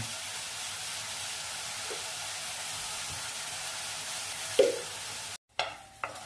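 Prawns fry in a pan over a medium flame, giving an even, close sizzle as they are stirred, with one sharp utensil clink near the end and a brief cut in the sound.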